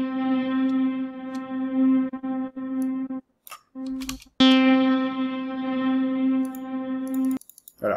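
A sustained, buzzing electronic tone drenched in heavy effects and parallel reverb processing in FL Studio's Patcher, with a brief dropout and a few clicks midway before it swells back loudly.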